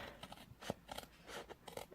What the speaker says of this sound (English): I'll just quickly do it with my scissors